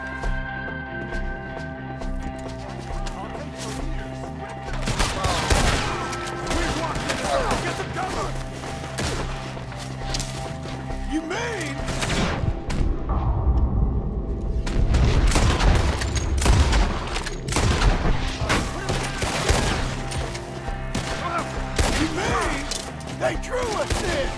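Gunshots crack in irregular volleys during a shootout in Red Dead Redemption 2, loud and near, some booming, mixed with shouting voices and background music.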